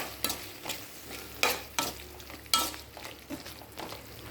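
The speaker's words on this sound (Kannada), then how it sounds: "ಈಗ ಕಟ್ ಮಾಡಿಟ್ಟ ಒಂದು ಟೊಮೆಟೊವನ್ನು ಇದಕ್ಕೆ ಆ್ಯಡ್ ಮಾಡ್ತಾಯಿದ್ದೀನಿ ನಾನು. ಇದು ಕೂಡ ಸ್ವಲ್ಪ ಫ್ರೈ ಆಗಲಿ." Chopped tomato frying and being stirred in a pan for tomato bath, a soft continuous sizzle broken by several sharp scraping strokes of the spoon at an uneven rhythm, close and clear with no talk.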